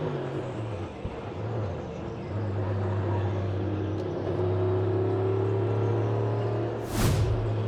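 NASCAR Cup cars restart at the 2026 All-Star Race, engines droning and climbing in pitch as they accelerate away, a steady roar under a broadcast soundscape.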